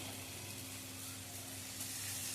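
Tomato paste and a spoon of Kashmiri chilli powder frying in a pan for a baim fish curry, giving a faint, steady hiss of sizzling with no other sounds.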